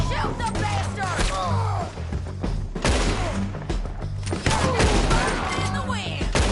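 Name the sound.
gunfire in the video game Red Dead Redemption 2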